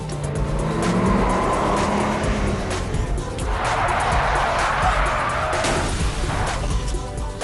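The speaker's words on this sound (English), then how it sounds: "flooring it in a powerful supercar causes those wheels to spin and lose friction, creating an impromptu drift" A powerful supercar floored so its wheels spin and lose grip in an unplanned drift, with a loud continuous engine roar and screeching tires running throughout, close and steady.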